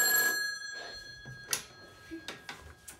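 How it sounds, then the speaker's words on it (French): An old telephone ringing at a Paris flea market, a bright bell ring at the start that fades, followed by faint handling clicks and soft voices nearby. "c'est toi qui va répondre au téléphone"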